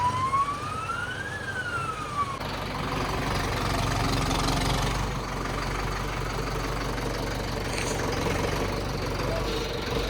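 A Swaraj 5911 4x4 tractor engine idles with a steady low rumble throughout, while a brief rising-and-falling whine sounds near the start.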